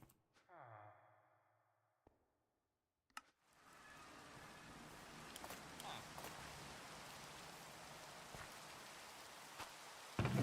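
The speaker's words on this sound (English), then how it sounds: "Why is it always raining in this server, man? It's so loud." Rain falls in the Minecraft video game as a dense, steady patter that starts after a few quiet seconds with a brief clatter, continuing with occasional sharper drops.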